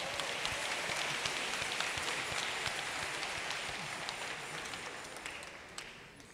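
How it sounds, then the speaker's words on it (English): A church congregation applauds in a broad, even roar of many clapping hands, with a few distinct claps poking through as the sound slowly tapers over about six seconds, no voices over it. "Ladies and gentlemen, give them another round of applause."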